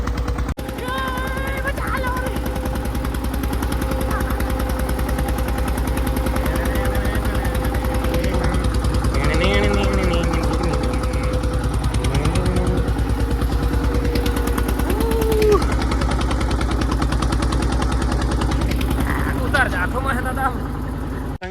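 Tractor engine runs while ploughing a field on a hot day, a loud continuous rumbling drone that persists throughout, with people talking over it.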